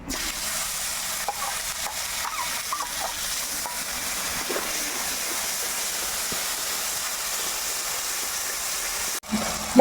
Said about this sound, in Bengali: ঘেটে রাখা মশলাগুলো তেলে ছেড়ে দিচ্ছি